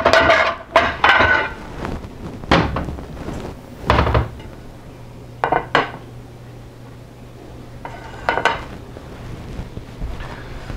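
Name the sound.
plating rice onto a dish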